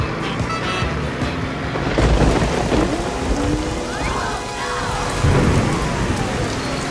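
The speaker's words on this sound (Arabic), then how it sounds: "يا أمطار، ابتعدي." Heavy rain pours steadily during a thunderstorm, with deep thunder rumbles swelling around the two- and five-second marks; loud and close, with no voices.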